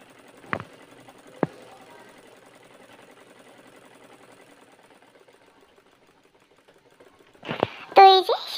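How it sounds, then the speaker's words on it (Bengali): A sewing machine stitches a turban seam in a fast, steady, even hum of needle strokes that runs on and on, with a few sharp clicks and a short burst of voices near the end. "এখন হচ্ছে আমি অপর সাইডেও সেলাইটা দিয়ে নিচ্ছি"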